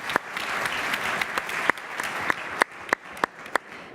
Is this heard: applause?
yes